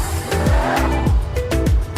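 Car tires squealing during parking in the video game Car Simulator 2, a few sharp skid squeals over a steady loud engine drone.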